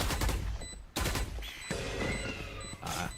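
Rapid gunfire bursts from a Valorant duel against a turret, dense overlapping shots filling the clip in loud, tightly packed volleys with brief gaps.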